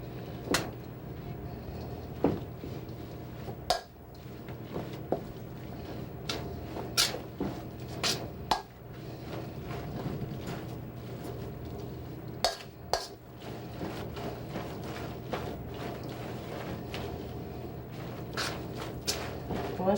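Crab cake ingredients with mayonnaise being mixed in a bowl, with repeated sharp clinks and knocks of a utensil against the bowl over a low kitchen background hum.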